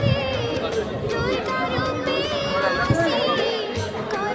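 A dense, noisy crowd packs the market lanes outside the Mangala temple during the Jhamu Yatra fair, a constant din of chatter, shouting and children's voices, with a few brief bright jingles and close voices over the steady murmur.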